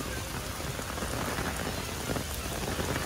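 Steady rain falling outdoors during a walk, a dense, even hiss of drops spattering on surfaces nearby, continuous and fairly loud with no voices over it.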